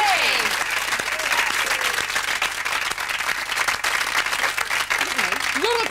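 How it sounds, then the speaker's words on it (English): A studio audience at a television talk show applauds loudly and steadily for several seconds, with scattered whoops and cheers mixed into the dense clapping. "A lot of applauding there."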